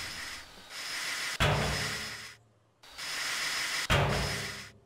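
An electric abrasive rescue saw in a demolition video game grinds in two long hissing cuts, each closing with a sharp thud, separated by a brief quiet gap.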